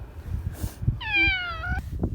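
A stray cat on an island walk lets out a single clear, drawn-out meow up close, with soft rustling and handling noise around it.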